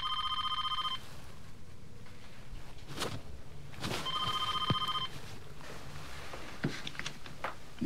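A telephone bell rings in two short trilling bursts separated by a pause. Soft knocks and movement sounds fill the gaps, and the background is quiet with no speech.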